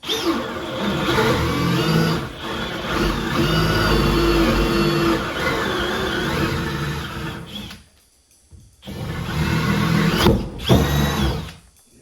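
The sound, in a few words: drilling holes in wooden studs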